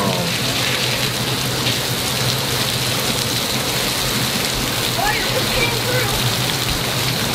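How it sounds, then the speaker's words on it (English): Torrential rain hammers down in a severe thunderstorm, a dense, unbroken roar of drops on nearby surfaces, with a faint low rumble beneath and a brief voice or two barely audible in the downpour. "It is just pouring."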